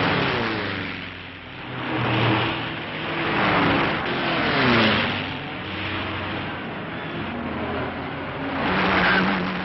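1930s Auto Union Grand Prix race cars roar past on a racing circuit, engine notes rising and falling in several sweeping passes over a steady muffled drone.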